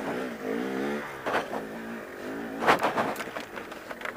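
Cold dirt bike engine on an enduro trail, a nearby revving motor with rising and falling pitch sweeps, uneven throttle blips and rough bursts, moderately loud.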